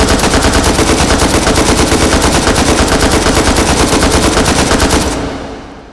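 An AKM fitted with a 75-round drum magazine fires a long unbroken full-auto burst in the H3VR virtual-reality shooter, loud, rapid and evenly spaced, cutting off near the end with a brief echo tail.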